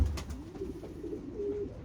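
Low, soft cooing from a racing pigeon, a young bluebird-colored bird bound for a one-loft race, murmurs in a rising and falling line close by, faint over a steady background hum with no talk.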